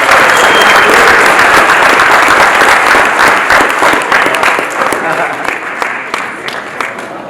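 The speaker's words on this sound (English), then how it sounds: "Give a round of applause for Deej." Sustained applause fills a youth wrestling banquet room, loud and dense from the start, then gradually thinning and softening over about seven seconds.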